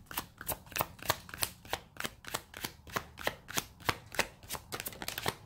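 Tarot cards being shuffled by hand, a steady run of crisp riffling snaps repeating at a brisk, even rhythm, close and fairly quiet with no talk.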